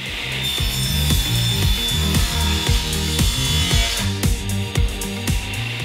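A power saw cuts through 3/4 inch plywood for a miter sled base, a loud, continuous whining cut with a rhythmic grinding pulse throughout, close up.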